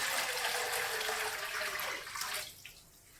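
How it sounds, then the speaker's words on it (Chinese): Clear water pouring into a cooking pot, a close, steady rushing splash that tapers off and stops near the end. "锅中倒入1500毫升清水"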